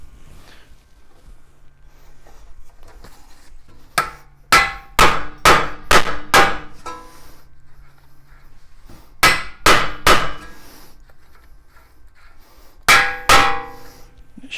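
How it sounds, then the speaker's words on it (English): A hammer striking a wheel hub on a Mazda CX9 or Ford Edge during wheel bearing replacement, sharp ringing metallic blows in quick bursts of five, three and two, close and loud. "hit with a hammer."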